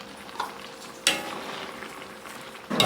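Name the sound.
stirring jackfruit cooking in a pan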